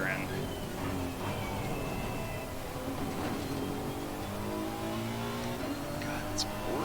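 Race car engine in Assetto Corsa Competizione droning steadily with rising and shifting harmonic tones, continuous and fairly loud, with someone talking over it.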